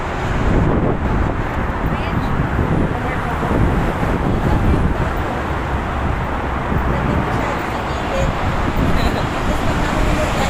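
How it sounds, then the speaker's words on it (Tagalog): Wind blows steadily across a bridge, a broad rushing roar with road traffic rumbling underneath and people talking over it throughout. "Mahangin dito sa bridge."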